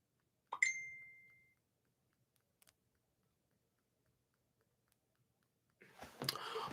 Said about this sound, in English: Having a notification.